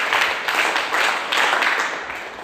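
Children applauding in a classroom, a dense steady patter of many small hands clapping together, fairly close and even, fading slightly at the end.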